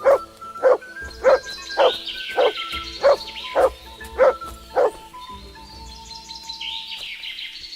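Dog in Kingdom Come Deliverance 2 gives eight evenly spaced barks over about five seconds, with bird chirps and ambient game sound continuing behind and after.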